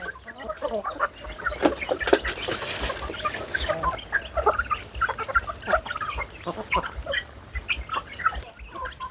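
Domestic chickens kept for sale clucking and chattering continuously at close range, many overlapping calls from a busy flock, with rustling throughout.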